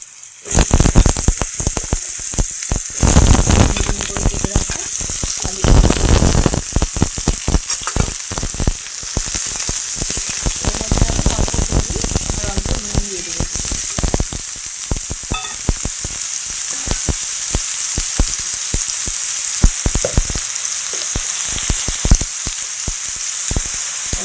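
Potatoes hit two spoons of hot oil in a wok and sizzle loudly and continuously, with sharp crackles and pops bursting through early on before settling into a steady frying hiss.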